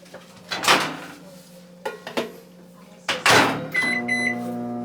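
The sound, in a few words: microwave oven being loaded and started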